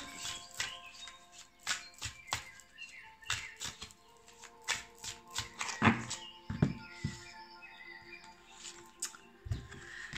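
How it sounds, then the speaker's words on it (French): Tarot cards are shuffled and drawn in a quiet room, heard as soft, irregular riffles, taps and papery slides close by, with bursts of shuffling and a few sharper clicks as cards are laid down. "Et une petite carte du tarot psychologique."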